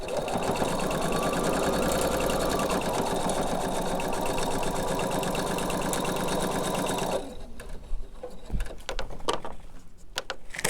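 A sewing machine runs steadily, stitching quilt pieces together in a continuous close whir for about seven seconds, then stops, leaving quieter handling sounds and light clicks.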